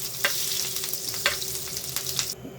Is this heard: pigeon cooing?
no